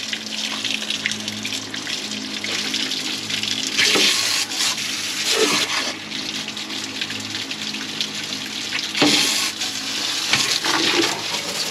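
Steady gushing water flushing mud and antifreeze out of a 1964 Ford F100 engine block, close and continuous with surging splashes throughout and no talk.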